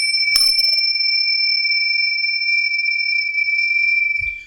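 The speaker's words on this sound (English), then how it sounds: "You can't even bang two little bells together." Two little bells struck together ring out once with a sharp metallic strike, leaving two steady high bell tones sustaining for several seconds, with a soft low thump at the end.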